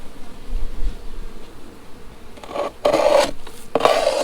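A tool scrapes sugar off the bottom board of a beehive in a few short rasping strokes toward the end, set against a faint background buzz of bees.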